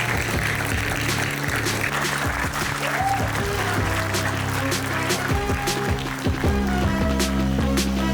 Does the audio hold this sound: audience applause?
yes